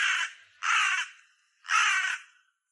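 Crows in a city park give three loud, harsh caws close by, separated by short silences.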